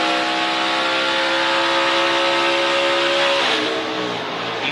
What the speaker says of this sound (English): his engine does blow up right there